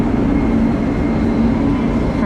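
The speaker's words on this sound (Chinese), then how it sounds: "火车终于来了。" A Chinese-built passenger train pulls into a station in Laos, giving a steady, loud low rumble with a faint humming tone throughout, and voices are faintly audible in the background.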